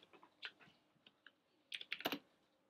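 Keys tapped on a computer keyboard, a few scattered clicks followed by a quicker burst of keystrokes, close and fairly quiet.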